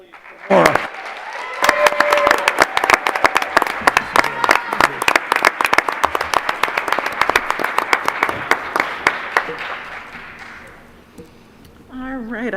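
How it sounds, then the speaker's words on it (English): Lively applause at a board of education meeting for a girl who made Eagle Scout, sharp and close with some speech beneath, swelling after a brief start and fading out near the end before talk resumes. "One more round of applause, please, for Mara."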